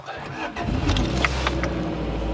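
A 1992 Honda Prelude engine cranks and catches, then settles into a steady, throaty running rumble up close, with faint voices nearby.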